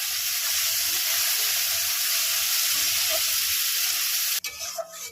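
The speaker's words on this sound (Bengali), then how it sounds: "পেঁয়াজগুলো কেটে রেখেছিলাম, ভেজে নেবো ভালো করে।" Sliced onions frying in oil with two dried chillies and a little panch phoron, a steady close sizzle throughout, broken by a sudden clatter near the end.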